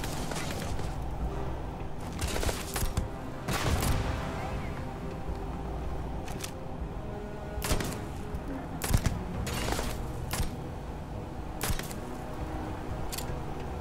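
Pistol shots fired in the space game Starfield, several sharp cracks spread irregularly through the stretch, each short and fairly close, mixed with game ambience while a person talks over them.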